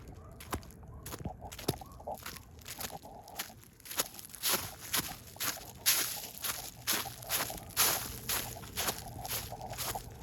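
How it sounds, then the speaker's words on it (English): Footsteps crunch through small dry leaves on a track, a run of irregular crisp crackling steps that grows louder and denser toward the middle, with no talking. "I'm gonna go step on them and see if they crunch"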